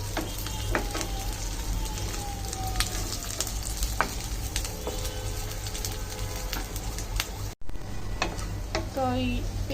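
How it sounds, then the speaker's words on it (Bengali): Onions and garlic fry lightly in a pan with a busy crackling sizzle and frequent stirring clicks nearby, over a low steady hum, with one brief dropout. "তো এখন পেঁয়াজ আর রসুনগুলো ভাজতেছি, এগুলো একটু হালকা ভেজে নেব।"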